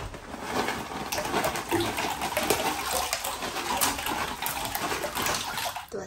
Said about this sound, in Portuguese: Eu vou ligar a banheira e tomar o meu banho de banheira.